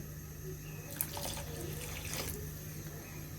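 Water poured from a running tap into a pan of tomato and sweet potato chutney, a short splashing rush lasting about a second and a half over a quiet room hum.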